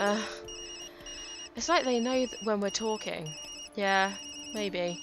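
A phone rings in the video game Tokyo Dark, with electronic ringtone tones that repeat throughout and sit under close conversation between characters.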